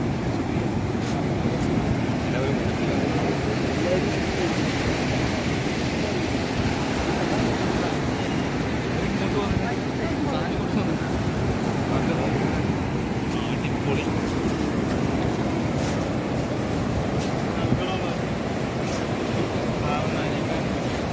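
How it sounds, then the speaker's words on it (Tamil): Arabian Sea waves roll onto a beach in a steady, continuous surf roar with wind buffeting the microphone, no distinct breaks between swells. "இதுதான் அரபிக் கடல்."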